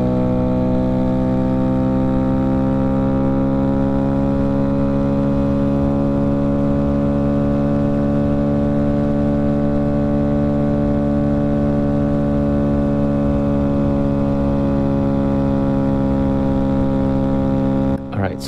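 A 2022 Honda Grom with a newly installed DHM cam drones at full throttle on a test ride, a loud, steady engine note with strong harmonics that barely changes pitch over nearly twenty seconds.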